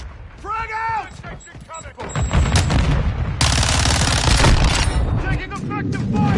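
In a military shooter game, bursts of gunfire and sharp explosive blasts mix with electronic tones and a loud, sustained rush of noise. Game voices speak over parts of it.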